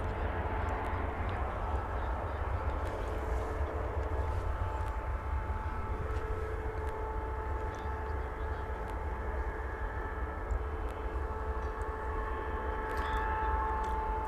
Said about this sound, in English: 737-800 coming in from Denver, Colorado.